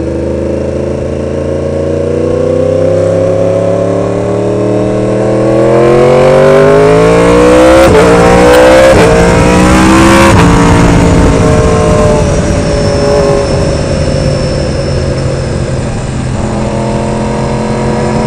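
A 2016 Yamaha R1 sport motorcycle engine revving up close, with loud, rising and falling revs that peak mid-ride and then settle, running steadily with no talking.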